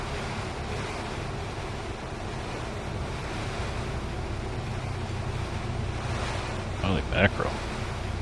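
Strong, steady wind roars around a small aircraft in flight simulation near a Southern California runway, a constant buffeting rush throughout, with a brief spoken exclamation near the end.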